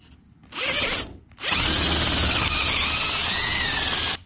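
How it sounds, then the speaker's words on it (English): A power drill bores a half-inch hole at an angle into wood while building a carpenter bee trap, a short whir then a longer, loud continuous grinding run close by. "at an angle, you drill in a 1/2-inch hole"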